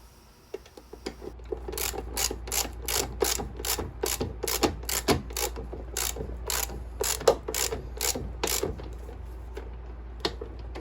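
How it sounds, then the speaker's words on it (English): A ratchet clicks rapidly and evenly, close up, as the wheel nut is tightened on a Toro Timemaster mower during a transmission replacement, with a low steady hum underneath. "go ahead and secure the wheel by putting the nut back on and tightening it up"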